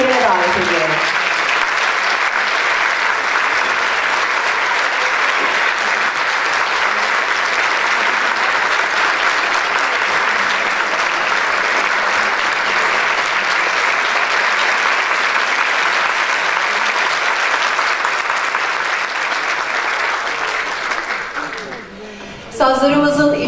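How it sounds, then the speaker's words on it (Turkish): A concert audience at a Turkish classical music choir performance in Çekmeköy gives long, even applause to welcome the conductor on stage. The dense clapping holds steady for over twenty seconds, then thins and stops near the end. "o kıymetli alkışlarınızla sahnedeki yerine davet ediyorum"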